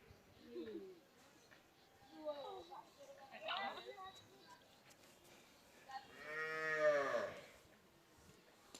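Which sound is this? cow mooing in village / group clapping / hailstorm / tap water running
cow mooing in village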